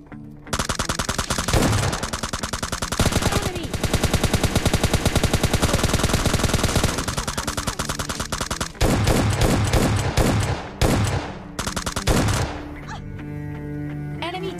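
M4 rifle fire in the mobile shooter PUBG Mobile Lite: loud, close, rapid automatic bursts run almost continuously, broken by short pauses and a sparser stretch of shots near the end.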